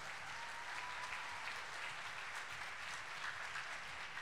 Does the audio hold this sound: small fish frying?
no